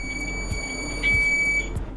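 Multimeter in continuity mode gives a steady high-pitched beep when its probes touch, a short tone rising over faint background hiss and low thumps, near and moderately loud, no talking.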